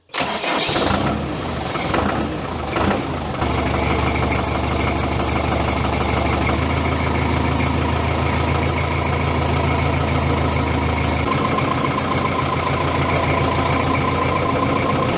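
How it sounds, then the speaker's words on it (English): A tractor engine cranks with a few stuttering turns, then fires and settles into a loud, steady, close idle with a strong low rumble that holds for the rest of the run, with no talking. "So let's get in, start it up, and go and find Lee"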